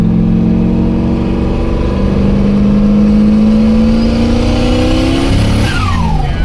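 A turbocharged LS-swapped Mazda Miata engine revs hard and steady, close and loud, its drone climbing in pitch before a sudden stumble near the end as a misfiring cylinder drops out and the revs fall away.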